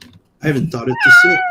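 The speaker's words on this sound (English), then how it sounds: "that was the sound of my cat saying," A cat meows once, a rising, drawn-out call heard up close right after a person speaks a short sentence.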